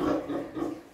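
Pigs on a pig farm grunt continuously at close range, a low rough oinking sound lasting about a second with no one talking.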